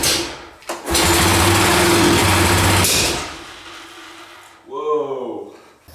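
A 1980s Yamaha three-wheeler with carburetor trouble runs roughly up close, a loud buzzing engine note that surges for a couple of seconds and then drops away, followed by a short burst of talk.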